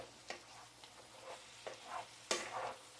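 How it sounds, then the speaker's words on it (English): Hamburger meat browning in a pan with garlic, soft sizzling broken by several scraping stirs and spatula strokes, fairly quiet and close, with no talking. "let's move this around a little bit. Get the rest of it browned up"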